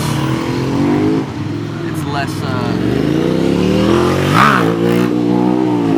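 A motorcycle engine revs during a wheelie: a loud, close engine drone under wind noise, with a sharp throttle surge near the end. Voices talk over it.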